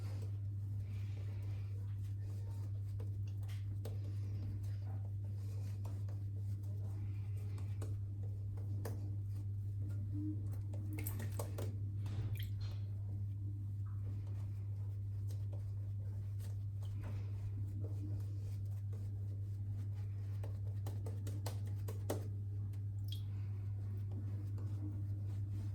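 A Wolf Whiskers custom shaving brush works water into menthol lather on the face with a long run of faint, repeated swishing strokes and small wet ticks, set against a constant low hum.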